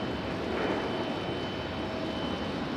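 An Embraer E175 airliner taxis at Raleigh-Durham airport, its engines giving a steady, broad, nearby roar with no other sounds.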